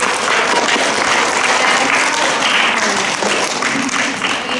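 Students at a primary school assembly applaud a classmate named Carlo, a loud, continuous wash of clapping from a large group of children filling the room without a break.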